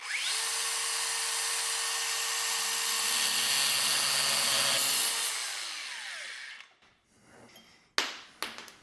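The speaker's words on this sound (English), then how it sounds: "So we're just filing off the burrs on here, getting it nice and clean." Hand filing burrs off a thick piece of metal tubing, a loud steady rasping grind held for several seconds close by, then fading, followed by a couple of sharp clanks.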